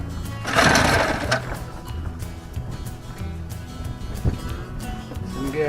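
A 1962 Johnson 18 hp outboard motor runs with a leaking fuel pump, a buzzy uneven close putter that swells briefly near the start and then settles into a rough, fluctuating drone.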